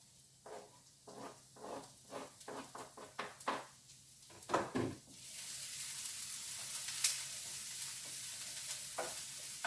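Chopped onions and garlic go into a hot pan in a home kitchen, stirred with a few scraping strokes before a steady, close sizzle of frying takes over and holds, with one brief clatter midway.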